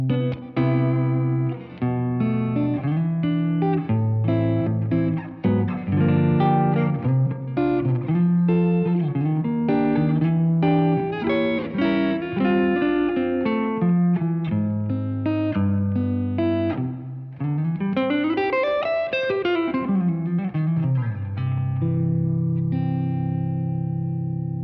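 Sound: guitar through Walrus Audio Fundamental reverb pedal

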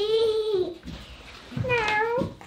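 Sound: person imitating cat meow

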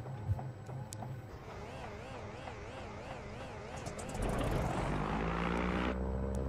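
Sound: Nardi Riviera amphibian aircraft engine running with propeller

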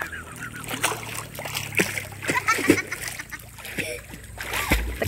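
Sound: splashing water while swimming

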